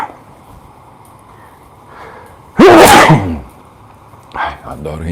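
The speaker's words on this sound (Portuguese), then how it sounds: "Dá um bom espirro." A single loud, sharp human sneeze bursts out suddenly mid-clip, preceded by a quiet room tone and followed by a short breathy vocal sound.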